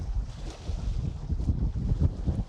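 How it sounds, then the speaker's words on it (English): Wind buffeting and water lapping at a Hawaiian fishpond, a steady low rumble of gusts over small waves, close and continuous with no voices. "Well, I hear the water, the waves."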